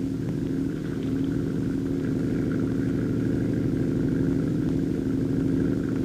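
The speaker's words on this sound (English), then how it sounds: "In the scooter, the left handlebar has a throttle control for a small 7-horsepower Nelson engine." A small hovering flying scooter driven by a 7-horsepower Nelson engine with a fan system gives a steady, close droning engine hum and whir that stays even throughout, with no talk.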